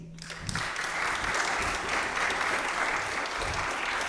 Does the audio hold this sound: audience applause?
yes